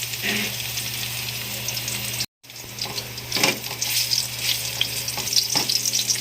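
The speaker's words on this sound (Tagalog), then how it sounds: "pag mainit na ang ating oil, ay maglalagay na tayo ng bawang" Garlic sizzles and crackles in hot oil in a home kitchen while adobong sitaw is cooked, a steady frying hiss with a short silent break and occasional stirring clatters.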